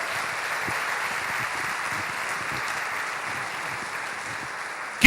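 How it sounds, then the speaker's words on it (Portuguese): A church congregation applauding, a dense, steady wash of clapping sustained for several seconds at moderate distance, with no individual claps standing out and no voices. "Você pode aplaudir o Senhor?"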